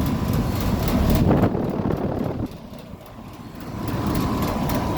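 An old, rattly Comfort Maker Sentry air conditioner runs nearby with a loud, steady rumbling drone and a buzzing rattle from its shaking cabinet and loose bolts, the level easing a little midway; no one speaks.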